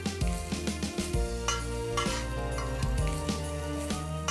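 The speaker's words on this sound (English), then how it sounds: "We're going to add 1 cup of grated dry coconut." Grated dry coconut and onions roasting in a pan for an Indian chicken roast masala, stirred with a utensil: steady close sizzle under repeated scraping strokes and light clinks against the pan, with no voices.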